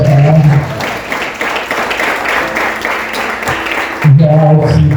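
Church congregation clapping after a Christmas sermon, the applause running under a loud voice and music that sound at the start and end, fairly close and busy.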